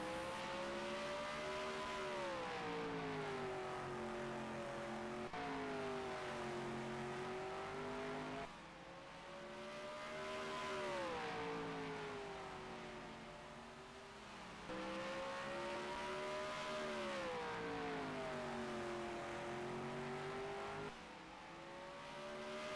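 Supermodified race car engines at Bracket Hill Raceway in the NASCAR Heat sim racing game drone and rise in repeated cycles of revving and easing, a continuous engine howl with no voices.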